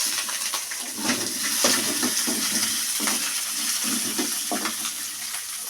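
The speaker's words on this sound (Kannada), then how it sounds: "ಅದು ಚೆನ್ನಾಗಿ ಫ್ರೈ ಆಗಲಿ." Onions, curry leaves and green chilies sizzle in hot oil in a pan, a steady bright frying hiss broken by soft repeated stirring scrapes, close and alone.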